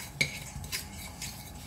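Butter and caster sugar are mixed in a bowl for coconut and jam tarts, heard as a few soft, quiet scrapes of a utensil over a brief moment with no talk.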